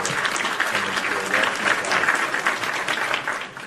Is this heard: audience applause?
yes